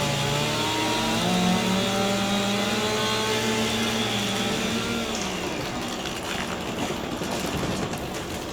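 In Farming Simulator 25 a machine cuts a tree, a droning motor whose steady tone slowly rises and shifts, loud and close, then gives way to a rougher, noisier grind.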